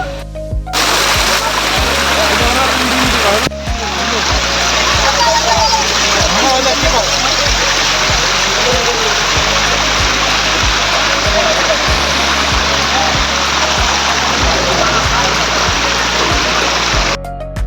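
Rupashi waterfall on the Komoldoho trail pours steadily, a loud, unbroken rushing roar of falling water that fills the whole span without pause.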